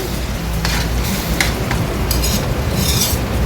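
A spoon scrapes and stirs drumstick chicken curry in a frying pan, with a steady close sizzle and repeated bursts of scraping across the pan bottom.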